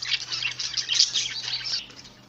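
A female budgie chirps rapidly and shrilly as it is caught by hand, a brief burst of close, loud calls that fade out after about two seconds.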